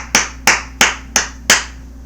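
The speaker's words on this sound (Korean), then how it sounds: "박수 쳐야죠." Five evenly spaced, sharp claps, close and distinct with short decays, forming a slow rhythmic clap from someone at a Korean political talk.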